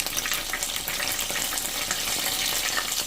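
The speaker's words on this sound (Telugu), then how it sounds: "ఇప్పుడు ఇదే ఆయిల్లో కొంచెం ఆవాలు, కొంచెం జీలకర్ర వేసుకుందాం." Mustard seeds and cumin sizzle steadily in hot oil, a continuous dense crackle with no pauses, close and fairly loud with no voices over it.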